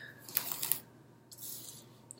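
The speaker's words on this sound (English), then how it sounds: "just like the sound of the cards being shuffled" Tarot cards are shuffled in two short, close riffling bursts separated by a brief pause, crisp and papery but fairly quiet.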